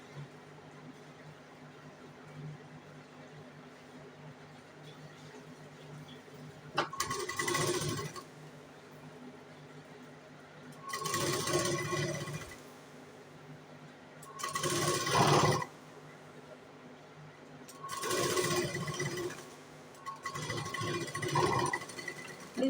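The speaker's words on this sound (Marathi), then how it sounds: "मी सिंगल लाईन शिलाई मारते" A sewing machine stitches single-line seams on a katori blouse, running in four separate bursts of rapid whirring, each lasting a few seconds, close by, with quiet pauses between and no talking.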